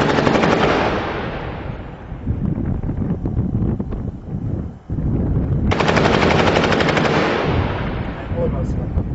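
Heavy machine gun fire at night in the Bab al-Sibaa district of Homs, Syria: long, loud, sustained bursts with a brief pause midway, roughened by wind buffeting the microphone.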